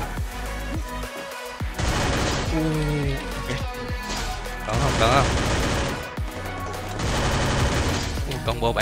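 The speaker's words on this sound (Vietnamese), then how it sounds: "Mới nghe tiếng bắn đâu đây nè." Gunfire in a shooting video game comes in dense bursts of shots and explosions that rise and fall across the stretch, with a brief lull near the start and loud clustered volleys later.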